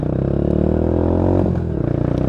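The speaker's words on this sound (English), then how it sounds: "I tend to give it just the one rev bomb under the bridge so you just get an idea of the exhaust tone" A Lexmoto Tempest 125 motorcycle fitted with a standard stainless exhaust can gives one steady, loud rev under a long bridge, its engine note swelling and then briefly dipping before settling back into a throaty idle, with no talking.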